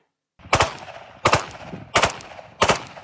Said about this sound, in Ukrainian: Стріляє зі ствольної зброї.